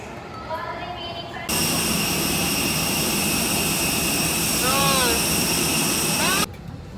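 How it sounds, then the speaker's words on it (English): Passenger airplane touching down at Caticlan Airport, a loud steady roar of engines and rushing air inside the cabin that surges in and holds before cutting away, with faint chimes and voices before it. "Touchdown in Katiklan Airport."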